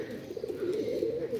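Soft, low cooing from a high-flyer pigeon runs steadily through the clip, a continuous throaty warble close by with faint background noise.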